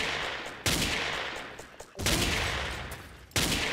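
Rifle gunfire in the video game Ace of Spades, three loud sharp shots, each trailing off into a long noisy decay, with no voices.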